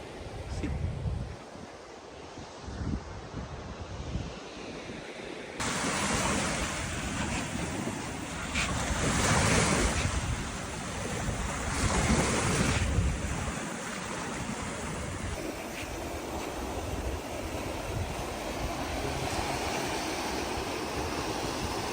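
Sea waves wash continuously along the beach near Dhanushkodi, a broad steady roar with surges of surf and wind buffeting the microphone, loudest through the middle stretch.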